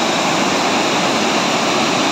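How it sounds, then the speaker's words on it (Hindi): The Siang River swirls and rushes past a bridge point at Pasighat, making a loud, continuous roar of churning water with no voices. "आप लोग देख सकते हैं किस तरह पानी घूम रहा है"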